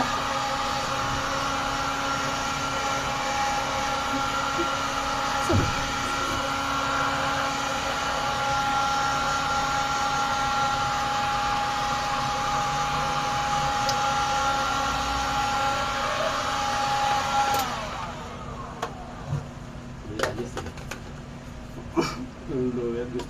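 A blower runs as a steady, even whine for most of the recording, then cuts off near the end, leaving a few knocks and clatters behind; people talk over it.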